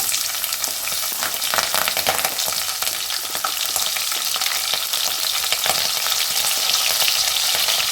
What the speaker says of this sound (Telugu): ఆనియన్ బ్రౌన్ కలర్ వచ్చేంత వరకు మగ్గించుకుందాము.